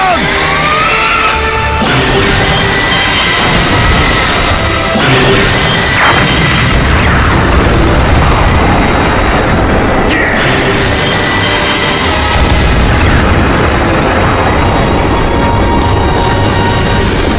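Booming cannon blasts and explosions ring out as dense, loud sound effects from a tokusatsu hero series, with repeated heavy impacts and crashing bursts layered over a constant roar.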